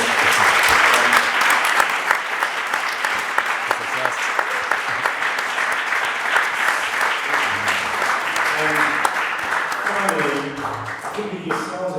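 A conference audience in London applauds its speakers with sustained, full-room clapping that holds strong and even, then thins slightly toward the end as a voice begins speaking over the last seconds.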